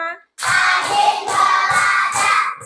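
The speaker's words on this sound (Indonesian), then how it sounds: "hari ini kita akan coba tepuk 1, tepuk 2, nah, tepuk 3, tepuk 4, tepuk 5" A few spaced hand claps from a children's counting clap game, led in Indonesian, land in a steady rhythm beneath a continuous chanting voice.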